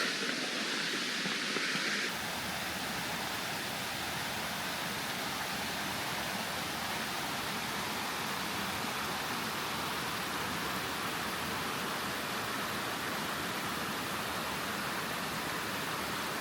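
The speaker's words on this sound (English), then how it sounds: "oh, I hear the waterfall" Steady rushing roar of a waterfall near a hilltop cave in Iowa, a continuous broadband wash of falling water that holds even and unbroken throughout, heard alone with no voices.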